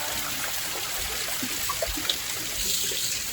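A small garden waterfall built from river boulders trickles water over stones, a steady soft wash with faint bubbling close by, no talking.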